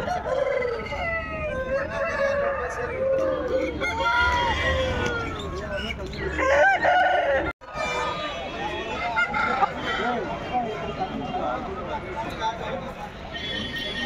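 Aseel roosters crow repeatedly among clucking fowl at a busy, noisy poultry market, with people talking throughout and a brief dropout midway.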